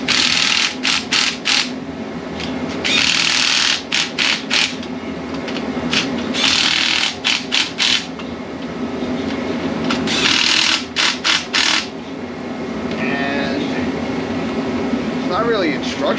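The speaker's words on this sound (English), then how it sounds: "Grab my 3/8 impact." A 3/8 inch impact wrench in a garage, used while assembling a Harbor Freight transmission jack. It gives repeated short bursts of whirring and hammering, then a longer run of quick pulses, with rustling and handling noise between them.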